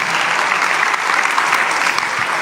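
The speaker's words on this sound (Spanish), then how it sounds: "Alguien tiene que gritar un fuerte amén y aplaudir el nombre del Dios que cuida de nosotros." A church congregation bursts into sustained applause, a thick, even wash of many hands clapping together close by, with faint crowd voices mixed in.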